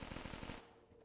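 Rapid automatic gunfire from a weapon in a Black Ops 3 custom zombies match, a burst of close, loud shots in quick rhythm lasting about half a second before cutting off to quieter game ambience.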